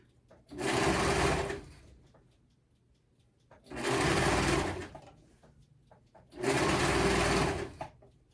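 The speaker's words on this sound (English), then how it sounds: "I might have to start wearing earplugs for when you serge because it's loud, isn't it?" A serger sewing machine stitches shirt seams in three loud, close bursts of rapid mechanical whirring, each lasting about a second and a half, separated by quiet pauses.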